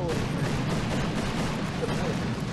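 Artillery fire in a video game, a dense, continuous roar of booming blasts and crackling gunfire that fills the whole stretch at steady high loudness, with no clear gaps between shots.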